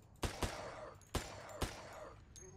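Several loud, sharp gunshots ring out in a zombie survival video game, two quick shots followed by two more spaced apart, each with a short echoing tail.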